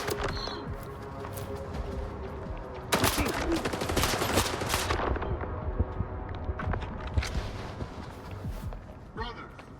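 Gunfire in S.T.A.L.K.E.R. 2 cracks out as rapid bursts of shots aimed through a tank, a dense volley peaking midway amid scattered single shots, with a voice talking underneath.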